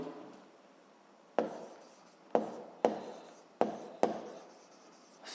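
Notes handwritten during a Ukrainian physics lesson for 7th grade: soft scratching strokes of pen on paper in five distinct bursts, each with a sharp onset that fades, close and quiet, with no talking.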